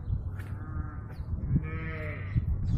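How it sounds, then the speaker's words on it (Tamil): Sheep bleat on a farm in Saudi Arabia, drawn-out wavering cries rising over a low background of rustling and farm noise, heard fairly close with no one talking. "இதுதான் இங்கே உள்ள செம்மறி ஆடு"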